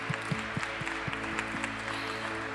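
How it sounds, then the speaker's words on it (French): A congregation in church during Mass on the fifth Sunday of Lent gives soft, scattered applause, a handful of separate claps ringing out over a quiet, reverberant room with no speech. "On peut l'applaudir très fort."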